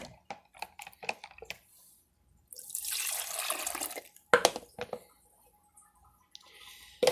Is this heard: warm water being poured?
yes